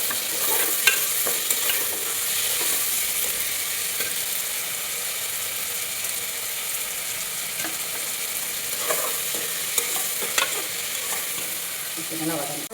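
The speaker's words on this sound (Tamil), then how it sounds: "தக்காளி வெங்காயம்லாம் வதங்கிடுச்சு" Onions and tomatoes sauté in a pan with a continuous close sizzle and frying hiss, punctuated by occasional scraping and clicking stirs throughout.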